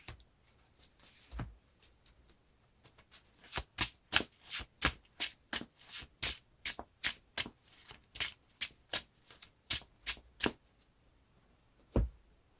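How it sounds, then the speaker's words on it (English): A deck of playing cards for the Lord of the Rings card game being shuffled by hand, a long run of crisp riffling bursts in steady rhythm, close and clear, with a couple of softer taps at the start and a final snap at the end. "Shuffle my deck."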